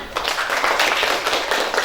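Students in a classroom clap together, a dense, steady patter of many hands at close range that runs throughout without talk.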